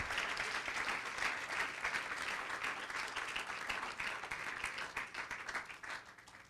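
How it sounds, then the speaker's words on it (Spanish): A church congregation claps together in sustained, even applause that fills the room for several seconds without pause. "¿Cuántos dicen gloria a Dios y le dan un fuerte aplauso al Señor?"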